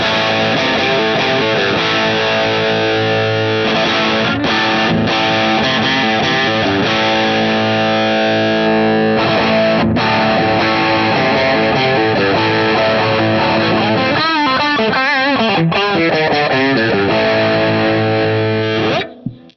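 Distorted electric guitar runs through Guitar Rig 6 amp simulation with the mic at the cap edge, playing a steady, dense, loud stream of chords and riffs for the whole stretch with no talking.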